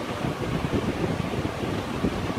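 Strong wind blows at a beach, producing a loud, continuous low rumble and buffeting against the microphone, with a steady roar and no talking.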